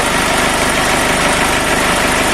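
A Toyota FD-25 forklift engine idles steadily and loudly after starting, with a rapid, even low-pitched thrum and constant vibration, no voices.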